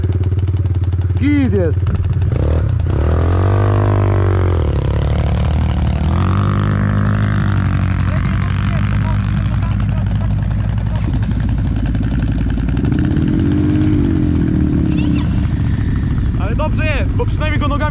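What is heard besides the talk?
quad bike (ATV) engine riding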